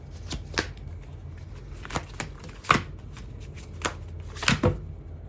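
Oracle cards from the Liminal Spirits deck are shuffled by hand in a quiet room, giving several crisp riffling bursts with short pauses between them.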